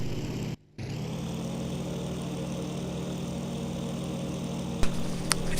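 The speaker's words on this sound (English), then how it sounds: "Very powerful engine, about 2200 horsepower, I believe" A P-47 Thunderbolt fighter's roughly 2200-horsepower radial engine drones steadily with a low, even hum, briefly cutting out for a split second near the start, then continuing alone with a couple of faint clicks toward the end.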